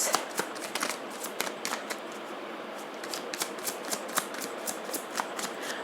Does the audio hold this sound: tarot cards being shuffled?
yes